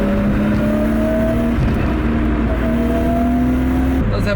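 A Nissan Skyline R32 with an RB25DET engine and five-speed manual holds a loud, steady high-revving drone with rising harmonic tones throughout, climbing in pitch and dipping briefly near the end.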